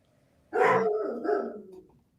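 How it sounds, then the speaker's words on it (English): A dog gives a loud, close bark, then a second shorter bark follows straight after, with quiet before and after. "Oh, dogs."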